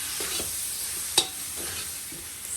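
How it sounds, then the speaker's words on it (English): Eddoes and tomatoes being stirred with masala in a pot for crab curry: soft scraping and stirring over a faint steady sizzle, with one sharp clink of the spoon against the pot midway. "We're going to mix this to make sure that everything is nicely coated with the masala."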